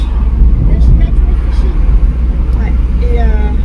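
A car drives along on the way to a fishing shop, its engine and road noise a steady low rumble filling the cabin, with a faint voice briefly audible near the end.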